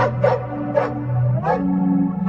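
A dog gives several short, spaced barks and yips over a steady low hum, fairly close and clear.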